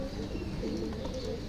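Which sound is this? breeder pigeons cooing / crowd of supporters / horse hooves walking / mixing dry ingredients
breeder pigeons cooing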